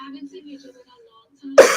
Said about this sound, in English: with me having this cough, it's just not working